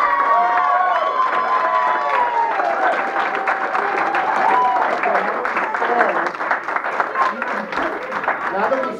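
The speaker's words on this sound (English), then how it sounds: "a round of applause for our new councilman" Town board meeting audience clapping and cheering for a new councilman, a warm roomful of applause with whoops and excited voices over it, tapering slightly toward the end.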